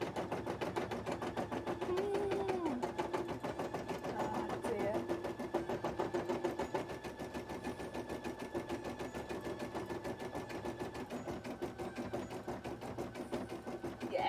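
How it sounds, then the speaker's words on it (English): A home embroidery machine stitching detail onto a cosplay piece, making a fast, steady mechanical rattle that runs throughout while a person talks over it. "We just set this up for the embroidery machine"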